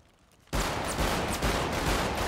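Dense, sustained gunfire from a GTA 5 shootout bursts in after a brief quiet and keeps going as continuous loud rapid shots, with no talk over it.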